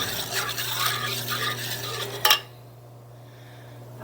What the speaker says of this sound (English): And milk and whisk well to combine